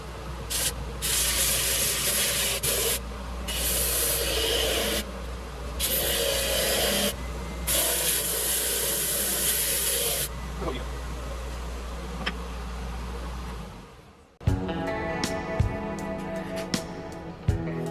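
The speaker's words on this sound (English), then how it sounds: "here's the side I just sanded" A 12-inch disc sander mounted on a lathe grinds a walnut offcut with a loud, buzzing whine broken by short gaps as the wood is pressed and lifted, then spins down abruptly near the end.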